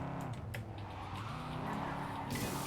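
A car slides across the road in the video game Cyberpunk 2077, its engine droning steadily as the tires scrub and skid, with a sharper hiss near the end.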